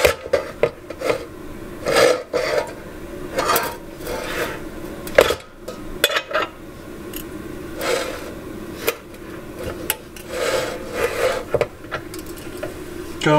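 A threading die cuts 10-24 threads onto a metal rod during intake work on a 1983 Mercedes 300TD, heard as irregular close rasping, grinding strokes with brief pauses between turns.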